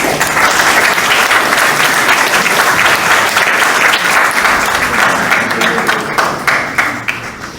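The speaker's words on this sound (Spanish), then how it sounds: "un aplauso para ustedes" Loud, dense applause from a large audience, sustained throughout and tapering slightly toward the end.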